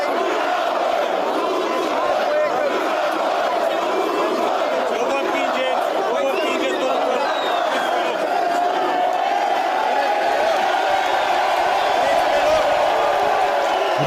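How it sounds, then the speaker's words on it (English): A large crowd at a political rally for Georgescu makes a steady, dense roar of massed voices that could be chanting, loud and continuous throughout with no break. "I want to see a crowd chant."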